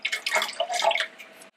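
Water is swirled inside an emptied can of crushed tomatoes to rinse its sides, giving a close, continuous sloshing and splashing with dripping and gurgling that stops abruptly at the end.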